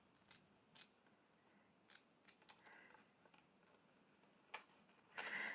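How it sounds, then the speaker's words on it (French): Scissors snip around paper for a December Daily craft page. The cuts are quiet and close, with several short separate snips and a louder, longer cut at the very end. "alors là, il faut que je coupe autour"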